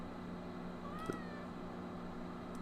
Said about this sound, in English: the cat says stuff